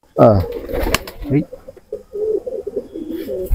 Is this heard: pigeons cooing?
yes